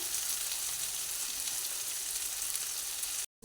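Potato and eggplant curry sizzling in a pan over a medium gas flame, a steady, close frying hiss with faint stirring that runs evenly and cuts off briefly near the end.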